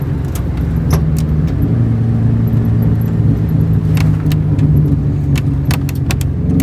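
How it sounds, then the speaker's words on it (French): A car engine idles close by with a steady low hum, and light metallic clicks and jangles are scattered over it. "On peut voir qu'elle marche l'auto. Eh, elle marche, hein. Démarrage au premier coup."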